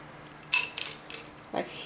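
Metal cutlery clinks and rattles in a few short bursts as it is set out at the end of a snack buffet table, close and fairly clear against a quiet room.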